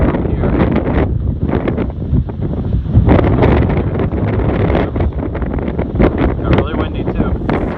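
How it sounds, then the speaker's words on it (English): Strong wind on the Appalachian Trail buffets the microphone in a continuous loud roar with gusty surges throughout, no other clear sounds standing out. "Got really windy too."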